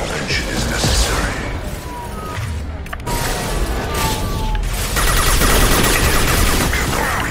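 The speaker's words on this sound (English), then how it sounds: "Firing a high impact shot!" Gunfire from a high-impact shot in the Mass Effect video game, sounding as dense loud bursts and crashing impacts within continuous battle noise.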